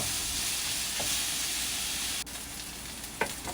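Ground pork and beef fry and get stirred in a hot pan in a home kitchen, with a loud steady sizzle. It drops abruptly midway, and a couple of brief utensil scrapes and knocks follow, with no talking.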